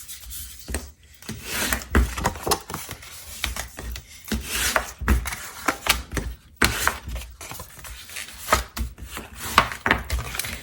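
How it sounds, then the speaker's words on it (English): Bone folder rubbed firmly along the score lines of folded cardstock, giving repeated dry scraping strokes in uneven bursts, close and fairly loud, with no voices. "burnish with our bone folder"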